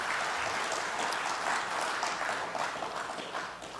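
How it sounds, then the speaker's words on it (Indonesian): Audience applause at a carbon exchange press briefing in Indonesia, a loud, even wash of many clapping hands that runs steadily for a few seconds and tapers slightly at the end. "Tepuk tangan buat kita semuanya."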